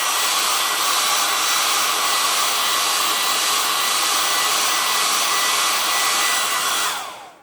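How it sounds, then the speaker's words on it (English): A hair dryer blows in a steady, loud whoosh for several seconds, then cuts off and winds down at the end. "So we got the hair dryer."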